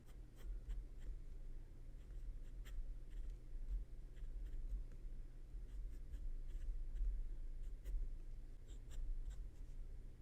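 Steel, gold-plated nib of a Tianzi urushi fountain pen scratching across paper in a steady run of soft, close strokes, with faint ticks as the pen lifts and lands, no voices.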